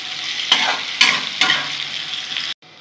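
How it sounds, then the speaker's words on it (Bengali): Bitter gourd sizzles in hot oil with onions, a steady fry punctuated by three sharp stirring scrapes before it abruptly stops. "উচ্ছেগুলো আমি ভেজে নেব পেঁয়াজের সাথে।"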